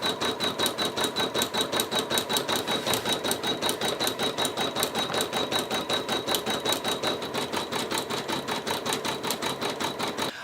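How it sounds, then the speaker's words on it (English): An embroidery machine stitches the satin outline of a number onto a t-shirt, a fast, steady, mechanical clatter of evenly spaced needle strokes, close and constant with no pauses. "the last step for stitching this design is basically to let it stitch the satin outline of the number"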